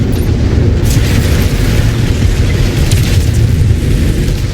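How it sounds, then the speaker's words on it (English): A missile strikes a mech in Mechwarrior 5, giving a loud, sustained rumbling blast with heavy low-end roar that fills the whole stretch without a break. "Incoming missile."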